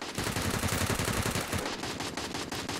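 Loud video game gunfire: rapid automatic bursts of warning shots that rattle on almost continuously, heaviest in the first half, with no talking.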